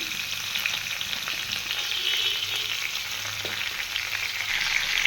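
Onion paste frying in oil in a pan for aloo dum: a loud, steady hiss of sizzling with faint stirring scrapes underneath, and no voices.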